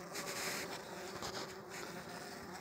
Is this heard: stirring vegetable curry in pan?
no